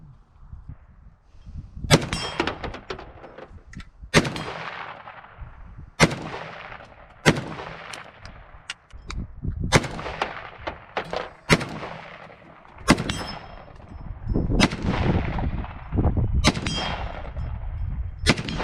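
A gun fired repeatedly while scouting hunting land, a series of loud, sharp reports spaced a second or two apart, each followed by a ringing clang and a decaying echo, heard close with no talk.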